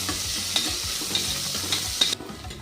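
A large onion fries in a pan for tomato rice, a close, steady sizzle with repeated scraping stirs and a few sharp utensil taps, the hiss dropping off suddenly near the end.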